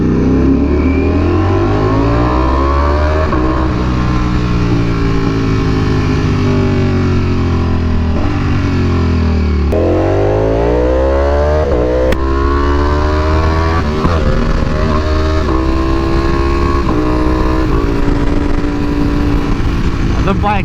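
Aprilia RSV4 R V4 motorcycle fitted with a new exhaust, revving and accelerating while riding through fog between cars, the engine note rising and falling continuously and loudly up close, with the rider talking over it.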